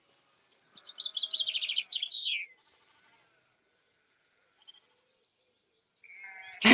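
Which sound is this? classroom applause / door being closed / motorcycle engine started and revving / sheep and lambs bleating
sheep and lambs bleating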